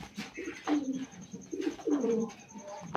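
Pigeons cooing close by, several soft throaty coos in uneven bursts over a quiet background, with faint movement but no speech.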